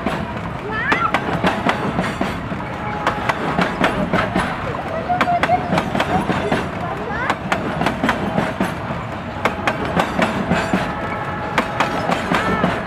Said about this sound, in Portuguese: Você gostou de ver trem, Helena?